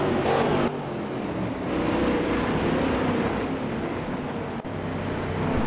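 A tight pack of six racing cars passing on a circuit within seconds of each other, engines roaring loudly in a sustained overlapping blur of noise.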